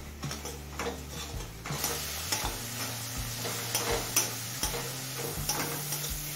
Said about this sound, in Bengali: এবার হাই ফ্লেমে কিছুক্ষণ মশলাটা কষিয়ে নেব